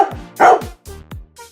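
A dog lets out a short burst of sharp, close barks, three or four yaps in quick succession with brief gaps between them.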